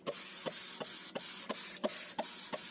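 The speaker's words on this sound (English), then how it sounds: "I'm going to go ahead and spray with my shower. I call it shower cleaner." Cleaner sprayed inside an oven: a trigger spray bottle hisses in eight quick, evenly spaced bursts, close and fairly loud with no talk.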